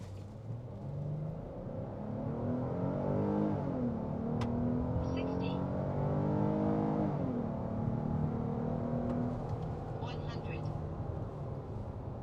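A 2026 Hyundai Palisade XRT Pro with all-wheel drive, driven in sport mode, gives a steady engine hum and road rumble. The engine tone climbs and falls in smooth sweeps as it accelerates, heard continuously from inside the cabin.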